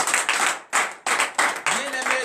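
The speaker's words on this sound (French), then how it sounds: "Donnez l'acclamation à l'Éternel, frères et sœurs en Christ." Congregation at a morning prayer service claps in short bursts of acclamation, several close, loud rounds of hand claps separated by brief pauses, with a voice entering near the end.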